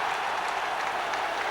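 A football crowd at a 1996 Middlesbrough match claps steadily, a broad, even wash of distant stadium applause with no clear voices standing out.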